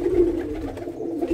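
A male pigeon kept for high-flying competition coos steadily and close, a low throaty rolling call that fills the moment alone with no voices over it.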